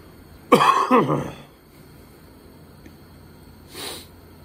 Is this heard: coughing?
yes